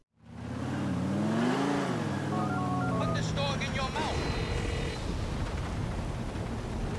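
Phone call in GTA 4 signalled by a series of electronic dialing and ringing tones over a loud engine roar, with a rising and falling drone underneath and a voice talking over it.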